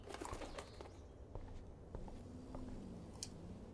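A small bird flutters its wings and flies out of an enclosure in the video game Life is Strange, with brief soft flapping bursts over a quiet, low ambient background.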